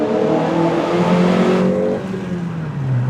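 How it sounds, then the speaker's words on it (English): A naturally aspirated base-model Honda Civic fitted with a cold air intake revs hard inside a tunnel with the window down, a loud, continuous intake and engine roar with rising and falling pitch that booms off the walls. "does that induction sound extremely good"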